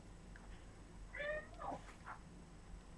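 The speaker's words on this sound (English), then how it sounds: "Oh, that was a cat." A house cat lets out a short, faint meow heard at a distance indoors over a steady low background hum, followed by a softer trailing sound.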